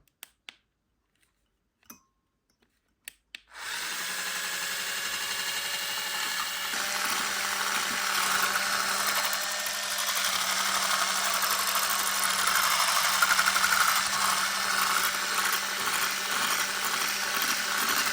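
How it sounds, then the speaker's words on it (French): An electric mixer blending a homemade vitamin C serum starts after a few quiet clicks and then runs as a steady, loud mechanical whir, close by and unbroken for about fifteen seconds, with no talking. "Donc maintenant, on va mixer tout ça."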